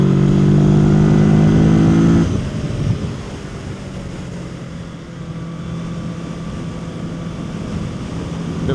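A Kawasaki Z650 motorcycle on a coastal ride in Croatia gives a loud, steady engine drone that drops off after a couple of seconds into a lower hum mixed with wind rush.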